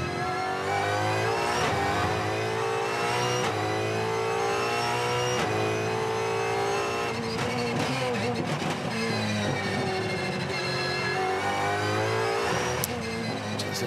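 Supercars race car lapping Winton circuit in qualifying, its engine loud and close, revving high with repeated gear changes and rising and falling pitch, commentary voices faintly underneath.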